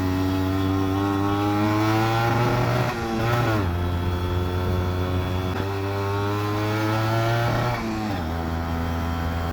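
Yamaha RX two-stroke motorcycle ridden through a forest ghat road in Madhya Pradesh, a loud steady buzzing engine close up with two brief dips and rises in pitch as the rider shifts.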